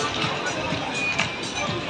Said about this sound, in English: let's have a big cheer for Bray for love this afternoon